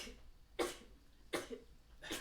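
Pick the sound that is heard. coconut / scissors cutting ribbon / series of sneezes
series of sneezes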